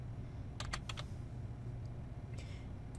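Quick bursts of keystrokes on a computer keyboard, a few clustered clicks followed by a pause and another short flurry, faint and close over a low steady room hum.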